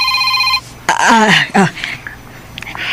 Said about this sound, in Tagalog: Si Kaloy kining nanawag